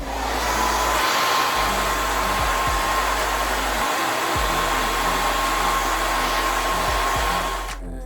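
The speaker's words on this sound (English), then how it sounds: "I'm going to blow dry it so it can get, so it can hold together like that." A hair dryer blow-drying natural hair runs loud and close the whole time, a steady whirring rush with a constant whine, cutting off abruptly at the very end.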